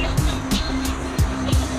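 A Ford Mustang 5.0 on non-stock rear tires at a racing event, its engine droning loudly with repeated surging revs and tire noise in several bursts.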